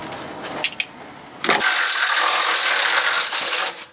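A hand ratchet clicks as a mechanic unbolts parts beneath a truck during a 4.8L to 5.3L engine swap, with short close bursts of clicking followed by a long, loud, steady rasp of metal-on-metal cranking.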